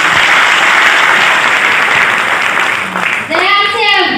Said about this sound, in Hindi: ताली बजाते हैं।